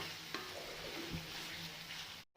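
Faint, steady frying sizzle of bottle gourd in a pan with a couple of soft clinks, quiet and close, ending abruptly.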